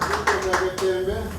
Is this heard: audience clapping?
yes